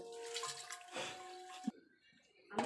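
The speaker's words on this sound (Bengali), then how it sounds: "তুলসী গাছে জল দেওয়া হলো।" Water from a pitcher splashes and gurgles onto a tulsi plant, a soft close pour that sputters, then stops abruptly before a brief final splash.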